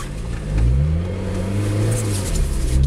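Lotus Exige sports car driving on a snowy track, its engine droning and rising in pitch as it accelerates, loud and close throughout without pause.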